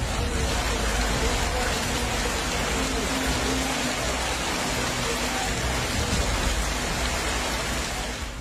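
Heavy rain from Hurricane Melissa pours down steadily in a dense, continuous roar of hissing water over the Dominican Republic, loud and unbroken throughout with no pauses.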